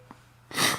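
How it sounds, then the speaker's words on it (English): A man gives a single loud, sharp sneeze at close range after a moment of quiet breathing, with no speech. "That's why I'm sneezing."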